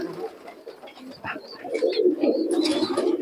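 Pigeons coo softly and repeatedly at a pigeon market in Murshidabad, with low throaty calls overlapping and faint background chatter and bustle around them.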